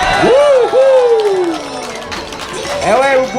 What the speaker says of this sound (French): vous pouvez l'applaudir parce qu'il est allé la chercher loin.